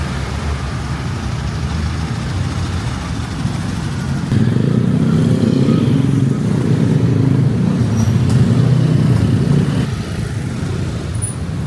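A scooter hums steadily while riding through busy traffic in Bali, its engine drone thickening midway as it rolls among cars and buses, with a continuous road roar throughout.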